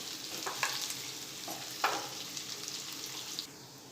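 Corn flour muthiya are stirred in a pan, a soft steady sizzle under a few quiet scrapes and taps of the spoon against the pan, faint and close.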